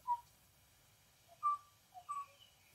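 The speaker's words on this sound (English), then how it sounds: "of a male o'o singing on Kauai." A male Kauai o'o sings alone on Kauai: a few clear, fluting whistled notes spaced apart, one near the start and a short phrase of two or three notes later, faint and distant against a quiet background.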